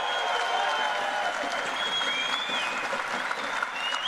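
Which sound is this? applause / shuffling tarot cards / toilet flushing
applause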